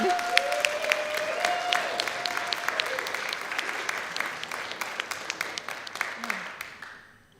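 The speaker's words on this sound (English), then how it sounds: "Let's give you another round of applause." A church congregation applauds a singer with crisp, sustained clapping, individual sharp claps standing out over the dense crowd sound before it tapers and stops abruptly at the end.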